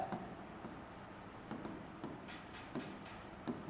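Marker or chalk writing on a board during a Class 10 quadratic equations maths lecture, with faint scratchy strokes and soft taps arriving in short bursts at irregular intervals.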